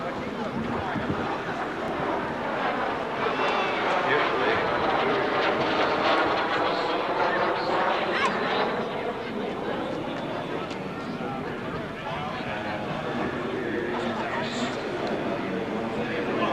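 A jet aircraft flies at the Wings Over The Illawarra airshow, a loud, rushing roar that swells and sweeps across as it passes, then eases off while the roar continues.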